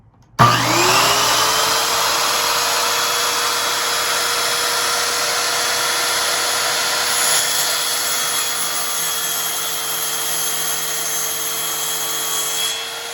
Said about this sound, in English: we want to start up the blade, let it reach full speed, then lower the blade slowly into the material